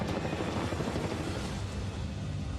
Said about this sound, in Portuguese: Esse helicóptero é militar. É um Black Hawk.